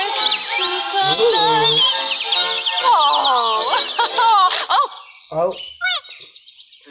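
Birds chirp and tweet in a Sims 4 Cottage Living trailer, bright warbling calls running under soft music while a viewer gasps and exclaims over them.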